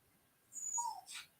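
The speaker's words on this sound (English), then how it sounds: "my dog is whining" A dog whines indoors, two short high-pitched whimpers in quick succession, faint and close against a quiet background.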